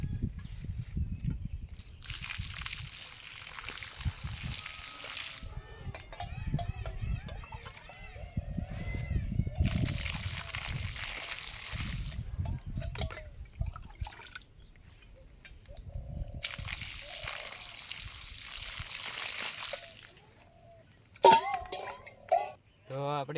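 Water is poured out at a peepal tree in several sustained splashing pours, with quieter gaps and some clinks in between.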